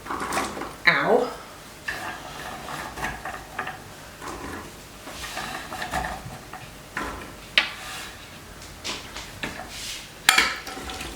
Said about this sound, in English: I'm going to go ahead and stir these up so that they're all coated with this honey, brown sugar, butter mixture